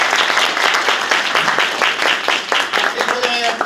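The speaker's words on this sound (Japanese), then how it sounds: "黒川さんとフランソワに拍手を。" Parents and juniors at a youth hockey school clinic applaud the coaches, a lively burst of many hands clapping with individual sharp claps standing out, and some talk under it toward the end.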